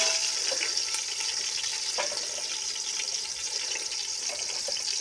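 Onions fry in a sambar tempering of oil on a wood-fired stove, giving a dense, steady sizzling hiss with small crackles throughout and no pauses.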